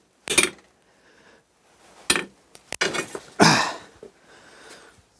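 Several sharp metallic bangs of a hammer striking a metal seat part during a boat overhaul, irregularly spaced, loud and close with ringing clatter.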